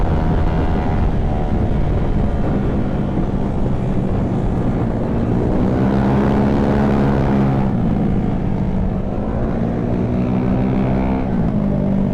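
Constant heavy wind buffeting the microphone during a downhill motorbike run, loud and roaring throughout, with a motorbike engine droning underneath.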